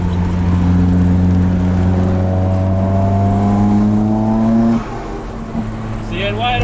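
Car engine held at wide open throttle with a lean-running fault, a loud steady drone of strong rising harmonics that drops off sharply near the end as the throttle closes, with faint talk underneath.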